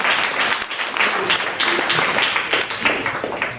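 Audience applause and clapping for a comedian at an improv comedy show, a dense steady burst of many hands filling the room for the whole stretch.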